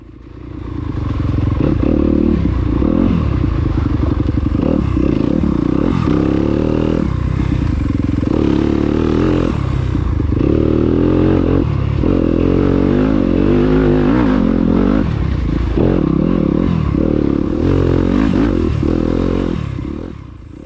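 Yamaha YZ250F dirt bike ridden down a sloppy, muddy descent in an enduro race, its engine loud and close throughout with rising and falling revs, clattering and scraping from the bike and terrain.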